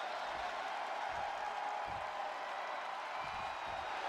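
A steady, dense crowd roar fills a wrestling arena at an NXT Heatwave event in the WWE 2K25 video game, a constant wall of cheering with a few dull low thumps underneath.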